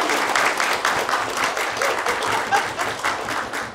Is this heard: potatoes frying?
no